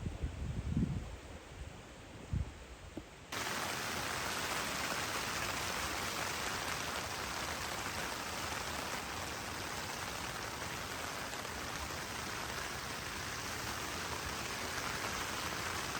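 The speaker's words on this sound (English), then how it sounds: "constant rain again all night" Steady heavy rain drums on a campsite tent during a wet night on the Cape Wrath Trail, a dense, constant hiss that starts abruptly after a few seconds of quieter ambience with faint thumps.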